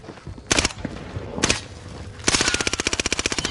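Gunfire in Call of Duty Warzone: two sharp single bursts, then a long, loud, rapid machine-gun stream of evenly spaced shots that closes out the stretch.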